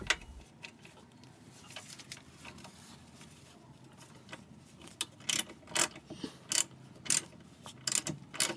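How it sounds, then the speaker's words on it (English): Mechanical clicks and ratcheting from a tool turning a screw while another tool holds the nut on the back side, during MGF Hydragas suspension work; irregular clicks, louder in the second half. "Use some tool to keep firm the nut on the back side while tightening the screw."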